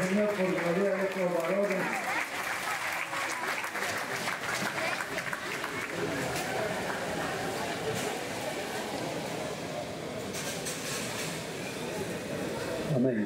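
A church congregation of the Iglesia Jesús applauds steadily during an anniversary service, the clapping sustained throughout with a brief musical tone and voices mixed in near the start.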